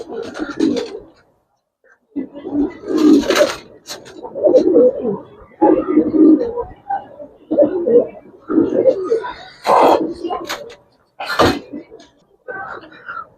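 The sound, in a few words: pigeons cooing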